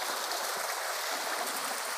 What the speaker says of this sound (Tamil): ஒரு சின்ன ஓடை